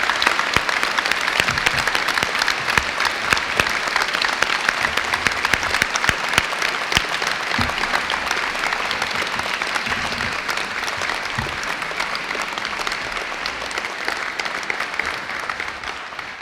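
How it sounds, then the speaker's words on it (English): A large audience at an Open University degree ceremony in Ely claps steadily and loudly for the graduates' supporters, a dense, sustained round of applause that carries on without a break. "let's give the supporters of our OU graduates a fantastic round of applause"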